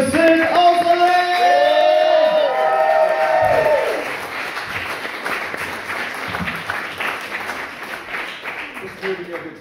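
Loud audience applause and cheering at a cabaret show swell over a fading sustained musical chord, then settle into continued clapping from a crowd.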